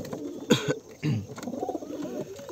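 Pigeons in a home loft coo softly nearby, a few short throaty calls breaking out of a quiet background.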